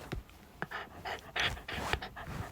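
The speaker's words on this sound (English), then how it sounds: "If you can hear panting, I'm sat next to my dog talking to myself." A dog pants close by in quick, rhythmic bursts of breath over a couple of seconds, fairly loud with no one speaking.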